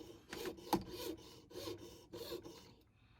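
A small rotary burr grinds castellated serrations into a metal watch bezel, producing close, raspy filing bursts in a quick rhythm, about four strokes over a few seconds.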